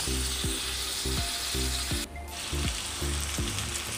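Chicken wings for spicy adobo fry loudly in a pan, a steady sizzle broken by regular scraping strokes of a spoon stirring them, about two per second, with no voices.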